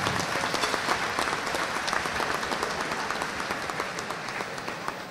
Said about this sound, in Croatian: na veliki aplauz za njega